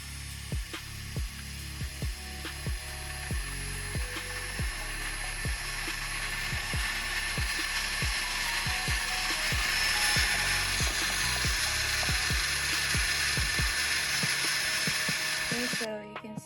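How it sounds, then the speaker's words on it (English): An electric drill fitted with a buffing pad polishes a scratched Honda Civic EK valve cover, giving a steady high whine with a rhythmic thumping pulse as the pad works the metal, running continuously and cutting off near the end. "going to use a drill with a buffing pad on it"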